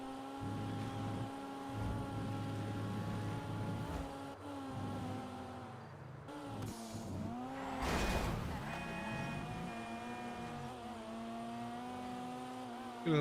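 A Dinka Jest, the GTA 5 take on a Toyota Supra, drives fast with a steady sustained engine drone and a whooshing surge midway, loud and continuous throughout.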